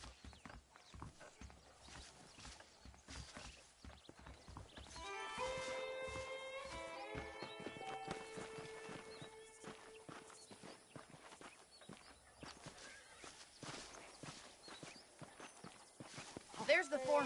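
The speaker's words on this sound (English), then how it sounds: "The horses are saddled up over here." Saddled horses in the Red Dead Redemption video game walk with steady, rhythmic hoof clip-clops, joined partway through by a soft musical tone, while characters talk throughout.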